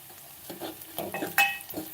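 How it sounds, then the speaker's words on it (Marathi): Onion and garlic fry in a pan with a soft sizzle, broken by spatula stirring scrapes and one sharp metallic clink. "कांदा आणि लसूण भाजून घेते."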